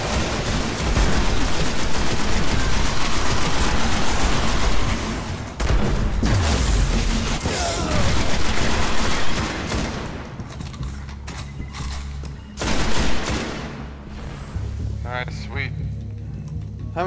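Rapid bursts of gunfire and booming blasts from the video game Destiny, played online on Xbox One with a level 2 Hunter, fill the scene loudly and almost continuously, with people talking over the shooting.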